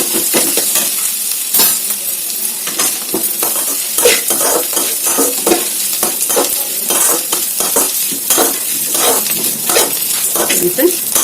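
Onions sizzle loudly in a pan while a utensil scrapes and stirs in repeated strokes, clinks of metal against the pan sounding close, with occasional speech underneath.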